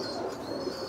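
Pigeons coo inside a loft, a soft, low, continuous murmur of cooing heard close by with no talking.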